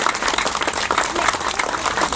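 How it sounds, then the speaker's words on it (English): Crowd at a church summer fair applauds, a steady wash of scattered clapping at moderate level with no voices standing out. "I'd be grateful if you give them a round of applause."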